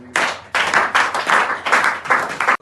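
A church congregation applauds for Jesus, loud sustained clapping from many hands swelling in several waves, close and filling the room, with no voices over it.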